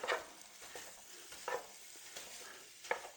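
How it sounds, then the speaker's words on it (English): Ground beef browning in a skillet as a utensil breaks it up, giving a soft steady sizzle with several scraping stirs at uneven intervals, close by and with no voices. "we're going to put our ground beef in the skillet. get it started browning. I'm going to break it up here."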